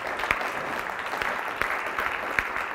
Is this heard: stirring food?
no